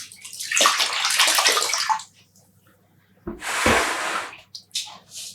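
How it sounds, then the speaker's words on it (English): A skein of freshly dyed yarn is squeezed by hand, giving two wet bursts of squishing and sloshing water close up, separated by a quiet pause, with a short drip-like splash at the end. "squeezing out the water."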